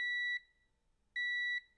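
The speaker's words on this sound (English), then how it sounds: "we're going to try to see if we can hear a beep" A multimeter on continuity mode beeps while its probes touch a fuse on an RX 580 graphics card, giving two sharp, steady electronic tones, each about a third of a second long, separated by a short silence.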